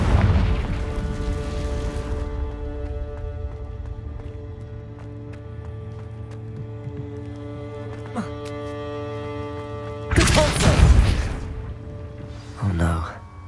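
Two Confringo blasting spell explosions from Hogwarts Legacy: a heavy booming burst at the start fades under a long hum, then a second loud blast hits near the end, followed by a brief fainter crack.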